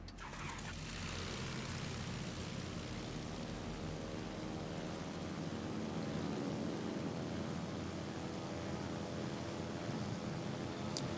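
Aircraft engines droning steadily after launch from a carrier in a naval warship game, a continuous low hum held at an even, moderate level with no talking.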